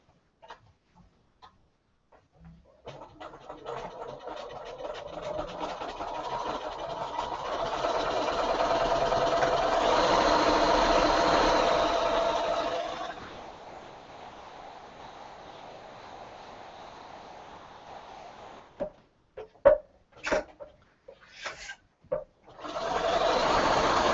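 Sewing machine stitching a 3/8-inch seam on a Christmas pillowcase, a steady whirring run that speeds up and then slows, followed by short stop-start bursts of stitching.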